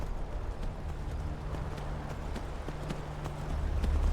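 A horse galloping in Skyrim, its hoofbeats a quick, soft clip-clop over a low rumbling background, fairly faint and continuous.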